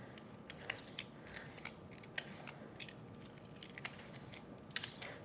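Asparagus spears being peeled with a vegetable peeler in a kitchen: faint, quick scraping strokes repeat at a steady, irregular rhythm over a quiet background.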